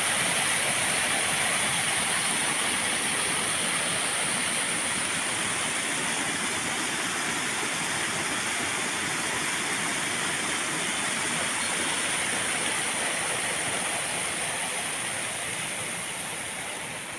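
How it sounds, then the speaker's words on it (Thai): Water spills over an overflow weir at a waterfall in a continuous loud, close rushing roar, steady throughout with no voices. "มาชมน้ำตกค่ะ น้ำตกฝาน้ำร้อนน้ำมาแล้วน้ำมาแล้"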